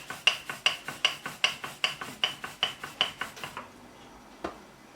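Paratha dough being rolled out on a board to quarter-plate size: a steady rhythm of about a dozen close rolling-pin strokes, each a soft rubbing thud, ending with one lone tap after a pause.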